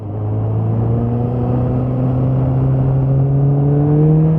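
A motorbike engine pulls steadily and close, its droning tone rising slowly as it accelerates over a few seconds, loud and continuous with no talk.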